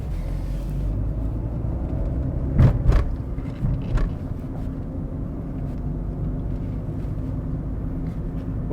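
A car driving along the Theyyala route near Tanur, with a steady low road and engine rumble throughout and a brief louder bump or clatter partway through, no talking.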